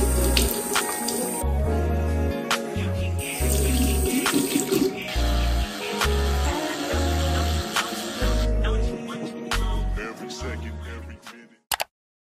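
Shower water runs steadily in a bathroom during a morning routine, a continuous spray hiss with a few brief pauses and knocks, fairly close and loud, then cutting off near the end.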